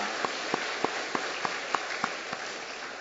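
A church congregation claps together in a slow, even rhythm during a Sunday morning service, about ten sharp claps in unison over a low hum of room noise.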